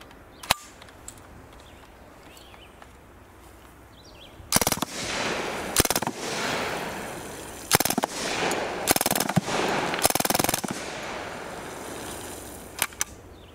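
A Mac 10 submachine gun fires off a magazine in several separate loud bursts and single cracks heard from a short distance, spread over a few seconds with quiet gaps between them.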